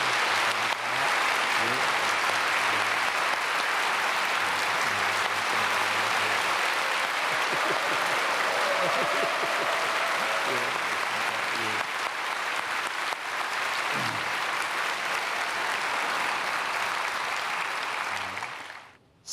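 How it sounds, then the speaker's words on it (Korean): A church congregation applauds two speakers, steady dense clapping that fills the large worship hall for many seconds before it fades out. "우리 두 분에게 박수하겠습니다."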